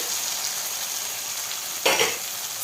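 Already-fried potatoes go into a pan of cooked-down spice paste for a traditional Bangladeshi dish, a constant close sizzle with one brief louder burst of frying as the potatoes drop in.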